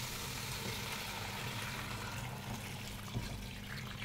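Boiling water poured from close by into a cooking pot, a steady rushing splash that runs unbroken for several seconds at moderate volume with no talk.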